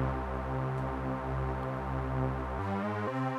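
A dry synth bass sample with no effects holds long, buzzy sustained notes. Near the end it shifts into shorter, choppier notes. No one speaks over it.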